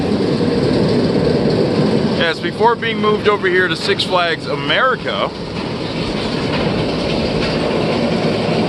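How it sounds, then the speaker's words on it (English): A roller coaster train on Firebird at Six Flags America rumbles and clatters steadily throughout, with a person talking over the first half. "oh look, there goes the train"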